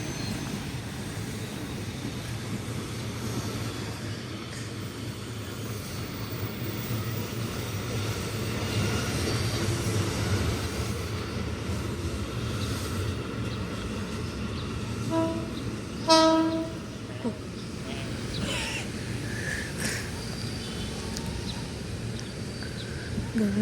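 A commuter train rolls in at Juanda station, its steady rumble building over a long stretch before a short horn blast sounds, with faint station announcements and voices in the background.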